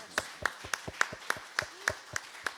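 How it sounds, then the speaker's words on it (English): Applause at a Sunday church service: a handful of hands clap in a steady, evenly spaced rhythm of about nine sharp claps, moderately near and fairly faint. "So let's give her a big round of applause."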